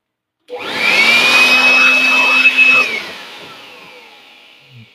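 A repaired 500-watt electric blower machine starts and runs with a loud, steady whine and rushing air, then spins down and fades after a few seconds.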